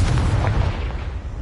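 A Confringo blasting spell in a Harry Potter video game goes off as one heavy, rumbling explosion that fills the short moment and slowly fades.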